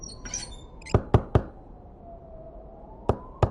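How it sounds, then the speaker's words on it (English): Knocking on a door in the video game Trover Saves the Universe: three quick loud knocks, then two more after a pause, with a faint electronic tone in the background. "I'm just gonna keep knocking and hang out until you open."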